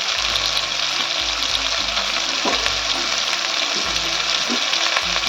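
Cabbage with cumin, coriander, turmeric, red chili powder, ginger and green chili frying in a pan, a loud steady sizzle with low clatter from stirring throughout.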